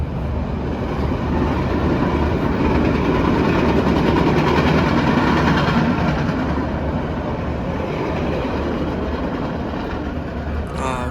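A Chicago metro train rumbles steadily, a dense loud low roar of wheels and engine on rails that holds constant for about eleven seconds with no talk.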